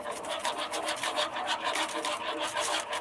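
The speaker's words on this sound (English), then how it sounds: "I'm supposed to do this with a whisk and not a spoon." A metal whisk beats enchilada sauce mixture in a cooking pot, making rapid, rhythmic scraping strokes that repeat steadily at close range with no talk.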